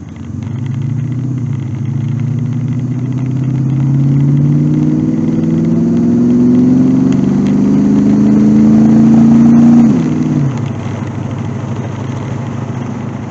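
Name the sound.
car engine pulling out onto road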